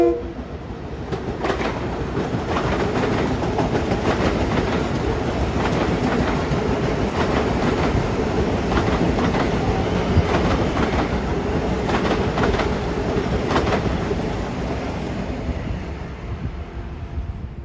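A Long Island Rail Road Ronkonkoma express train rushes past at Forest Hills during the evening rush, a loud steady roar of wheels and clattering cars held for the whole stretch with no voices.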